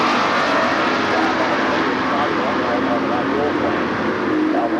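An H-Stock automatic drag race car doing a burnout at an NHRA event in Gainesville: a loud, continuous engine roar with tire noise filling the whole moment, while an announcer talks over it.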